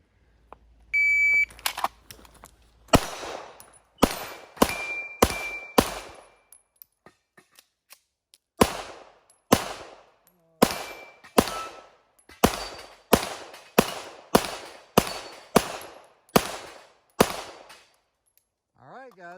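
A shot timer beeps, then a shotgun fires rapid loud blasts on a 3 Gun stage, in two bursts with a brief pause between them.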